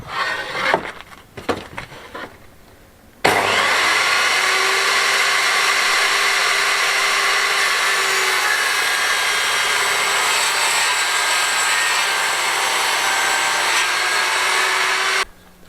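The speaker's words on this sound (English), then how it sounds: "so I can transpose it to my saw. So I'll get them cut." A power saw cuts angled wood pieces after a bevel-gauge setting, a loud, steady whine running unbroken for about twelve seconds after a few brief handling knocks.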